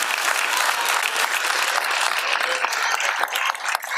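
A German live TV studio audience claps steadily and loudly for several seconds, a dense continuous wash of applause with no voices over it.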